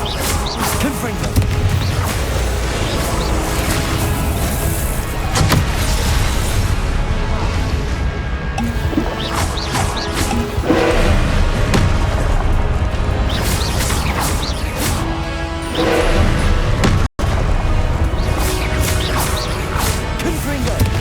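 Repeated Confringo blasting-curse explosions crash and boom amid a dense, loud wash of spell effects and combat noise in the wizarding video game Hogwarts Legacy.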